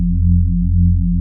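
A UK garage Reese bass synth played clean with no distortion: a loud, steady low drone with a slow wobbling beat that holds for the whole stretch, alone.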